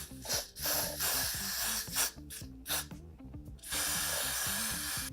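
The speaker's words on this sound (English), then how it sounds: "Now I'm going to go over that with the blasting freeze spray in order to create a tacky glue type surface" Blasting freeze spray sprayed onto wig lace to make a tacky surface for melting it down; short and longer hissing bursts in an irregular rhythm, close but fairly quiet, with music playing underneath.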